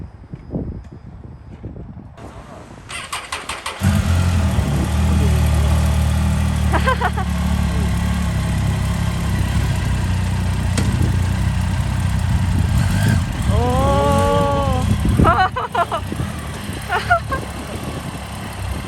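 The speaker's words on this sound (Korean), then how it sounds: "시동 한 번 걸어볼까?" A Triumph Tiger 800 motorcycle engine cranks and starts after a few seconds, then settles into a steady, close idle with a brief rev; people talk and laugh over the running engine.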